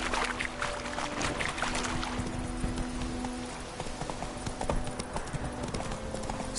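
Horse galloping in a PS4 fantasy video game, a fast, steady run of hoofbeats on the ground, close and continuous across the whole stretch, with faint game ambience behind it.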